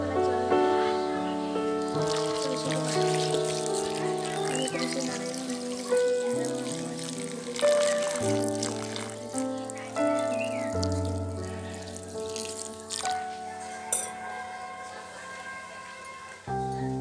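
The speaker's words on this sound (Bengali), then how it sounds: "তুলসী গাছে জল দিয়ে নিই।" Water pours and trickles steadily onto a potted tulsi (holy basil) plant, close and moderately loud, with splashing and dribbling, and faint talk in the background.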